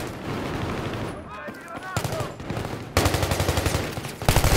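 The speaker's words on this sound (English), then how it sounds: "Guy left side is shooting at us" Battlefield 3 beta firefight with bursts of rapid automatic gunfire, steady and dense through most of the stretch, growing louder near the end, with faint voices under the shooting.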